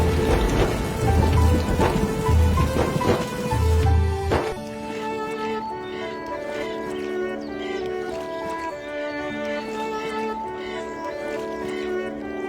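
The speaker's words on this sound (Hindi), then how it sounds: "रात को खूब बारिश हुई।" Heavy nighttime rain in a comedy cartoon scene patters loudly and steadily for a few seconds, then gives way to softer tonal sounds with fainter background noise.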